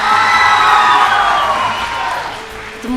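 A studio audience at a children's dance reality show cheers and claps in a loud burst that fades over a few seconds.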